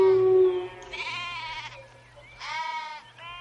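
Sheep bleat in a short narrated fable about a shepherd and a wolf, two or three loud, wavering bleats close by, with a low steady hum underneath.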